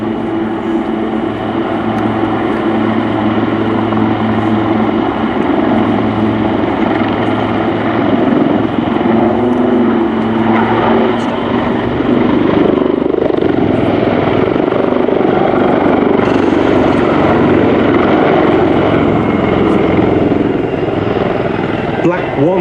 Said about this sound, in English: both pulling up into steep climbs, which will conclude with a formation nose